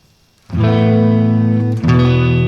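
Electric guitar chords played through a Twang Reverb amp setting ring out loud and sustained with reverb, one strummed chord followed by a second just before the end.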